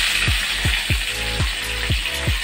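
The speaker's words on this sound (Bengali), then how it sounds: "ফোড়নের তেল, কালো জিরে আর কাঁচা লঙ্কা ফোড়ন দেব।" Black cumin seeds and torn green chillies hitting hot oil in a pan give a steady sizzling hiss, with a few short, evenly spaced chirping pops over it. No one speaks.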